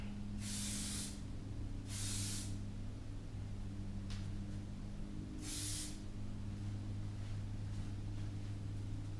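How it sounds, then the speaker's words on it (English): Three short bursts of aerosol hairspray hiss onto hair, close by, over a steady low mechanical hum. "I would just keep spraying and spraying and spraying so that it's perfect"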